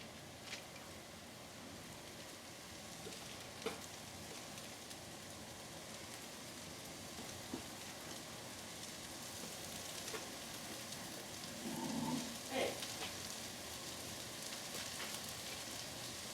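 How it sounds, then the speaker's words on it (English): Meatballs for Italian wedding soup sizzle steadily in a pan heated on high, a soft continuous crackle with a few brief pops, close and fairly quiet throughout. "They're starting to sizzle."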